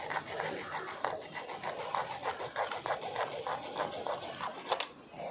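Brisk rasping strokes as the back of a saw blade rubs a CPVC plumbing pipe, a rapid rhythmic scraping of many close, even passes that eases off at the end.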